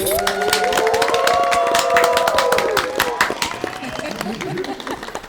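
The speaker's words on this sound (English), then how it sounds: "I want to give a big round of applause for her once again." A studio audience at a dating game show reunion claps and cheers, lively and close, with voices and cheering mixed in before the clapping gradually tapers off.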